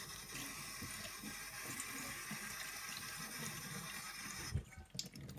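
Tap water runs steadily and close by onto a paper towel to wet it, then cuts off near the end, followed by a few brief handling sounds.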